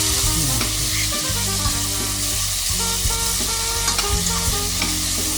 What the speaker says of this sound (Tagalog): Tuloy lang po natin ang ating pag-isa hanggang sa lumambot ang ating kamatis.